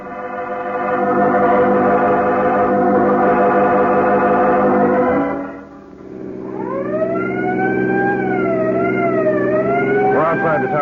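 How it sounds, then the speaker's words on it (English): A wailing emergency siren sounds in an old radio drama: a dense, loud tone rises and holds, fades out around the midpoint, then a second siren returns, sweeping up and down over an engine drone. "Outside the town, Peters, you can drop the siren."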